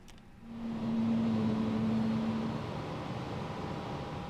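Airliner engine number 1 spooling up in Microsoft Flight Simulator 2020, a quiet rising whine that settles into a steady broadband rush with a lingering hum, heard alone without talk.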